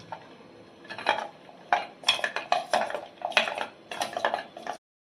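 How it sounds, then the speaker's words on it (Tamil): Melting chocolate is stirred in a bowl over a double boiler, giving repeated clinks and scrapes of a utensil against the dish in uneven bursts, close and fairly clear, with no talk. "இப்போ நம்ம இந்த சாக்லேட்டை போட்டு மெல்ட் பண்ணிக்கலாம்."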